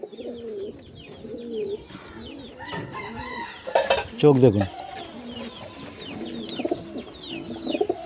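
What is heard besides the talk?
pigeons cooing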